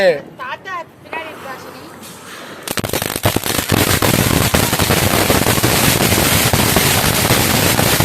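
A watermelon-shaped Diwali firecracker goes off after a short stretch of talk, then bursts into a loud, sustained barrage of dense crackling and popping that fills the rest of the clip.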